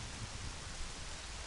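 Rain in the video game Majora's Mask, a soft steady patter and hiss of falling rain, constant and even across the short stretch with no talking.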